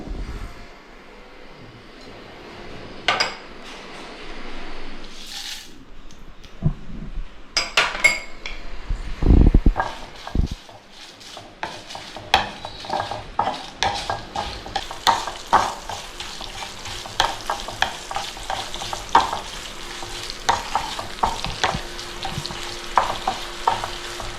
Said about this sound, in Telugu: ఇప్పుడు ఒక ప్యాన్ పెట్టి ఎండుమిర్చి వేయించుకోవాలి.